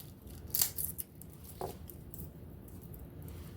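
Garlic cloves are peeled by hand, giving a few short crackly rustles of papery skin, loudest in a brief burst near the start and then a single small snap, close up and otherwise quiet.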